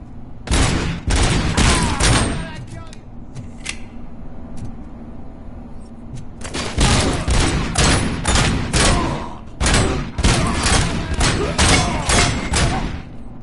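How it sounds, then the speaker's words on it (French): Bursts of loud explosive game audio, with a blast and heavy rolling detonations near the start and again through the second half, as a grenade goes off close by in a video game. "Le truc il explose sur ma gueule quoi alors que je le lance au-dessus"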